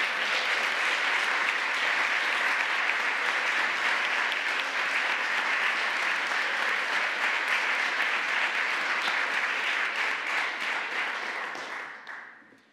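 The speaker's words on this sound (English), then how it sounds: "Can we have one more round of applause for all 8 of our teams?" Sustained, dense applause from a large audience celebrating competing teams at an awards ceremony, steady and full for most of its length before tapering off at the end.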